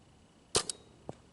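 A paintball marker firing First Strike rounds at a target: one sharp close pop, a smaller follow-up snap, then a faint thud about half a second later, all over a quiet background.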